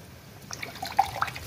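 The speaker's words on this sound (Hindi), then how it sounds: "अब मैं इसे सेम जार में थोड़ा पानी लूँगी" Water poured into a jar while making a paneer curry in a home kitchen, heard as a faint trickle with a few small drips and splashes, close by and with no talking.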